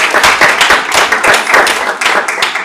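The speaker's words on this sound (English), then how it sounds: "So if we can again give them a round of applause." Audience applause filling a student government meeting room, a dense steady patter of many hands clapping at close range with sharp individual claps standing out, continuing without letup and no voices.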